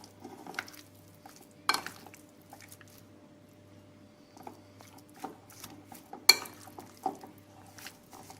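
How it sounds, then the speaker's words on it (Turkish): A spoon clinks and scrapes in a pan of chicken sauté reducing its sauce, in scattered irregular knocks and stirs at close range over a faint background. "Sosunu biraz çekmesini sağlayacağız. Şöyle karıştırıyorum."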